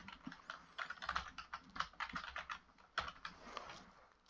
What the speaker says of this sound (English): type in a name